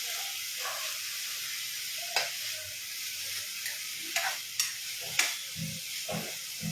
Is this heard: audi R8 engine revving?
no